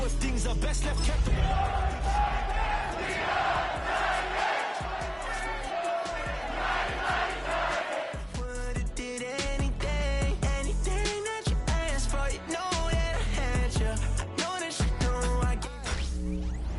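A stadium crowd in an EA Sports football video game roars in a continuous, dense wash of cheering and chanting that runs steadily throughout, with music and thumping sounds mixed in.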